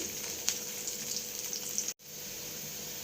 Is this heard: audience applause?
no